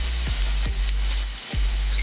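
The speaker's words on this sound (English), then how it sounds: "first we're gonna start with sautéing the garlic" Garlic sautéing in a pan for wings with tamarind sauce, a loud close sizzle with a low steady hiss and a few short scraping stirs, no speech.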